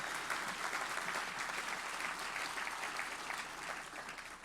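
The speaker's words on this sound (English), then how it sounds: "give them a round of applause" An audience applauds at a county State of the County address, a dense, steady wash of clapping from many hands that tapers slightly toward the end.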